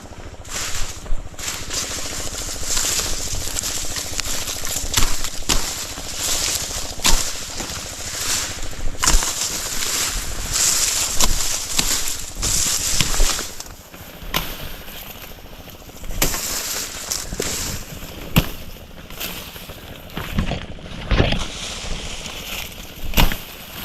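A boat passes with a continuous rumbling wash of engine and water noise, rising and falling over time, with occasional knocks and wind buffeting.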